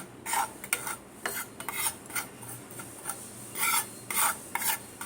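Dalmut ingredients dry-roasting in a dry pan without oil, with repeated raspy scraping and rubbing strokes of a spatula coming in quick, irregular bursts over a faint background.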